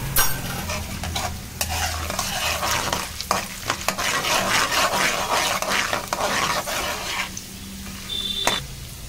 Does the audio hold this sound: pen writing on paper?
no